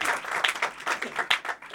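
Church congregation at an evangelical Sunday meeting clapping in a quick, roughly rhythmic burst, individual claps audible as sharp pulses over a few seconds at moderate, somewhat distant level.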